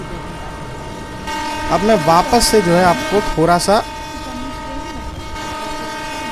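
A Mumbai fast local train passes close by with sustained rumbling and several loud horn blasts in the middle, while someone talks over it.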